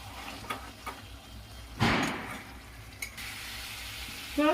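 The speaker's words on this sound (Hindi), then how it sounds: "अब इसे मैं हाई फ्लेम पर भूनूंगी, बिल्कुल पानी इसका सुखा दूंगी" Bihari-style chicken masala fries in a pan over high flame, giving a faint, steady sizzle broken by a sharper scrape of stirring partway through.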